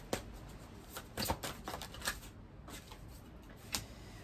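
Oracle cards are shuffled before one is drawn, a quiet series of quick riffling and flicking bursts close to the listener, with no talk over them.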